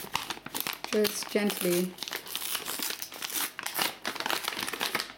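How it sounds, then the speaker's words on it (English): A brown paper bag being unfolded and opened, with steady crinkling and rustling of the paper close by while someone talks over it. "take a brown paper bag and unloosen the base like this"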